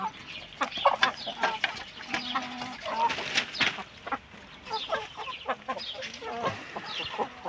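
Chickens cluck in a coop, many overlapping clucks and short squawks close by, a busy, steady chatter with no talking.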